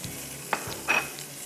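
Chopped onions frying in half a cup of oil in a pan, a steady close sizzle broken by a few brief stirring scrapes, with no voices.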